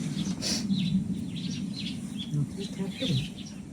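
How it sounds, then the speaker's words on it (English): Sparrows chirp from a ginkgo tree beside a garden, giving short, fairly faint tweets scattered over a steady background hum. "The sparrows are in the ginkgo looking down like, we want to come eat too"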